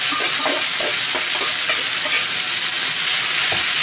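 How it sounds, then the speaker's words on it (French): Chinese noodles stir-frying in a hot pan, a loud continuous sizzle with repeated stirring scrapes and tosses throughout. "On voit que les pâtes commencent à frire hein, ici."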